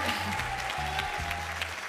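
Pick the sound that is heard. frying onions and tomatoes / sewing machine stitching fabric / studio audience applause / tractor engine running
studio audience applause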